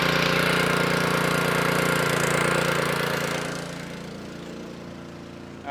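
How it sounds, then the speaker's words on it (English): A small pressure washer engine runs with a loud, steady droning hum, then its pitch and volume drop as it settles into a lower idle. "And turn on the engine."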